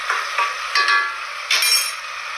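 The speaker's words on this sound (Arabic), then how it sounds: "حتى نقليوه مليح في البصل هذاك" Onion frying in a pan for a rechta dish, a brief close sizzle swelling in short bursts as it is stirred.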